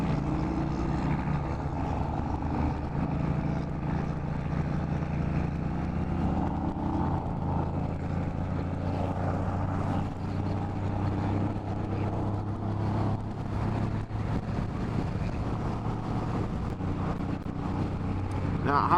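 An Indian Scout Bobber motorcycle cruises at about 65 mph in sixth gear near 3,350 RPM, giving a steady, loud low engine drone mixed with rushing wind noise throughout, with no gaps or changes in pace.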